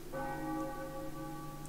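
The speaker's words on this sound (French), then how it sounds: "Quand les cloches auront sonné par 3 fois" A church bell in the Final Fantasy IX video game strikes once and rings on with a sustained, humming tone. The sound is quiet and distant over faint ambient background.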